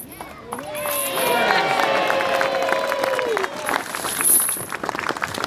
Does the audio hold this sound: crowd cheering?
yes